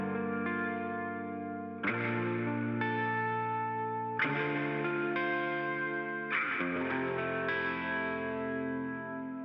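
Clean electric guitar chords ring out one after another, each strum sustaining with a lush reverb tail, played alone.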